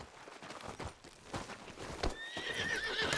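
Horse hooves clip-clop at an irregular walking pace in Red Dead Redemption 2, close and fairly loud, and a high whinny rises near the end over the footfalls.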